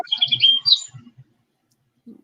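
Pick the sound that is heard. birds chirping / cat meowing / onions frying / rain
birds chirping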